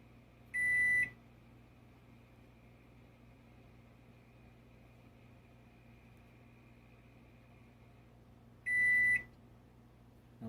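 A Toshiba inverter countertop microwave oven air fryer combo gives two short, clear single beeps several seconds apart while its child lock and sound settings are toggled, over a faint steady hum.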